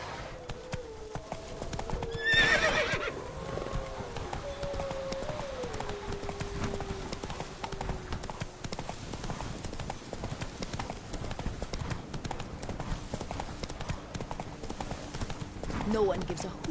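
Roach, a horse in The Witcher 3, gallops in a continuous drumming of hooves, with a loud whinny early on and a voice speaking over the running hoofbeats.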